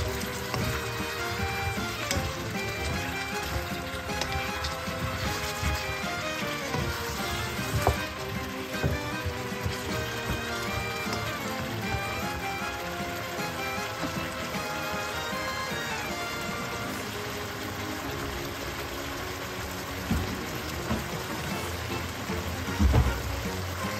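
Eggplant frying with pork in a pan for pinakbet, a steady close sizzle and crackle that runs throughout with a few sharper pops and stirring clinks near the end.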